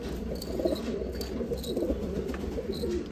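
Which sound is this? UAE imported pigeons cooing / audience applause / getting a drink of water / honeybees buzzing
UAE imported pigeons cooing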